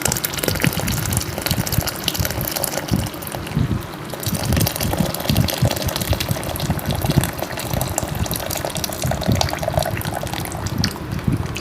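Lemongrass-infused water pours continuously from a kettle into a bucket, a steady splashing gush lasting several seconds, close and fairly loud, with no talking.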